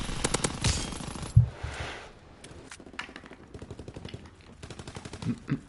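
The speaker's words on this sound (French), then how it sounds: "Qui tire dans le vide?" Rapid bursts of video game gunfire crackle in quick repeated volleys, loud at first, then thinning to scattered shots with a heavy impact near the start.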